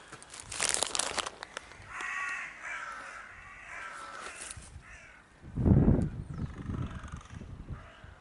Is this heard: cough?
no